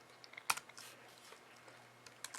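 Faint, sparse clicks of a computer keyboard as a few keys are pressed, quiet and close with one sharper tap, no talking.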